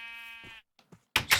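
A sheep in the video game TerraFirmaCraft gives one clear, tonal bleat, followed by a few soft clicks and then a short burst of louder noisy sound.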